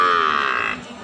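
Cattle at the Pon cow market in Blora give one long, loud lowing moo that stops abruptly, with market noise behind it.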